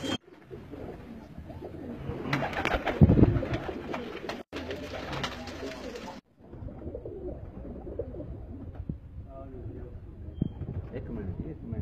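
Domestic pigeons from a loft in Jalalpur Bhattian cooing, soft repeated low coos and fluttering under ongoing men's conversation, with some handling noise and brief breaks.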